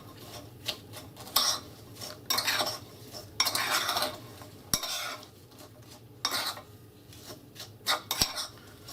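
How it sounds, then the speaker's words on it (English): Spoon clinking and scraping in a bowl of awarra mixed with brown sugar, stirred in several quick bursts with short pauses, close and fairly quiet, with no talking. "next we're going to give it a good stir."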